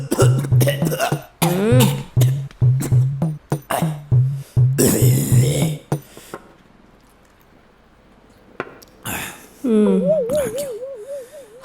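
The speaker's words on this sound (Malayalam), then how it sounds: "അല്ല, നല്ല ചുമ" Someone coughs repeatedly in a comedy scene, a rapid series of harsh, wheezy bursts over a low hum, then a pause, a few more coughs and a short strained vocal sound near the end.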